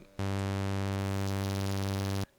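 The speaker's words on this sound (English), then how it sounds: "like a tape distortion, like a tape head that hasn't been cleaned" A sustained, buzzing synth tone runs through the Erosion effect in Ableton Live, giving it a gritty, dirty-tape-head distortion. It starts abruptly, holds steady and loud for about two seconds, then cuts off cleanly.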